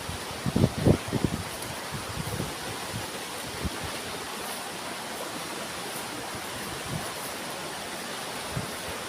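River water flows steadily beside a village path in rural Sunda, Java, a continuous broadband rush, with a few brief nearby rustling bumps early on.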